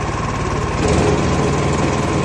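A wood chipper's engine runs steadily at low revs, a loud continuous mechanical drone with a brief swell near the one-second mark and no voices over it.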